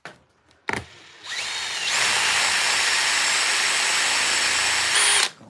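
A power drill fitted with a quarter-inch bit and hole saw bores into wood for a carving, starting with a short burst, then a steady, loud, sustained high whine for several seconds before cutting off.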